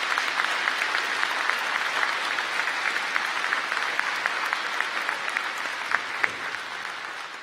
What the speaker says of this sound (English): Could I ask you all to give your graduates a huge round of applause?